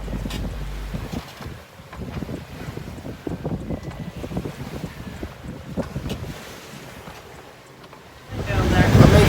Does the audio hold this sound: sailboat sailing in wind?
yes